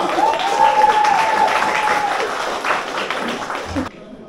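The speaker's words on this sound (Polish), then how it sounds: "Julia Dąbrowska, wielkie brawa!" Dense audience applause in a Bydgoszcz pub at an author's evening, a steady loud wash of many hands with a whistle-like tone early on, ending abruptly; some voices mix in beneath.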